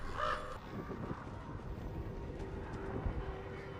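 A crow caws over a steady low rumble of background noise, the calls brief and indistinct early on before the noisy bed carries on.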